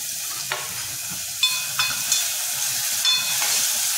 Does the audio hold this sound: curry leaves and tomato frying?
yes